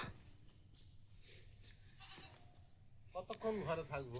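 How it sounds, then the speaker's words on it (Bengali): Goats bleating loudly near the end after a quiet stretch, on a foggy morning, with faint talking earlier in the background. "ছাগল ডাকছে বলছে আমাদেরকে বের করো"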